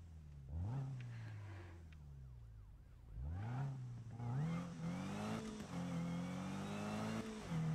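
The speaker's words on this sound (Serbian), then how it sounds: "U, kako mi se sada čuje motor," A car engine in the Need for Speed video game revs and climbs through gears in two rising pulls, a loud synthetic roar with rising whine and gear changes, up close and without talk.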